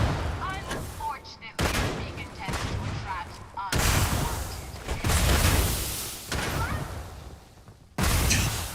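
Bursts of rapid gunfire in the space game Starfield, several loud volleys separated by brief gaps, sharp and close, with faint voice in between.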